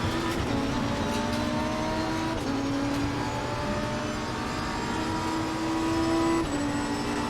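Race cars in the Assetto Corsa Competizione driving game hold a steady high engine whine, with gear shifts rising and dropping every few seconds as other cars drone close by.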